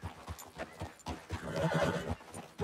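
A horse in the video game Red Dead Redemption 2 whinnies with rhythmic hoof clip-clops beneath, the neigh rising in the middle and fairly close, with no talking.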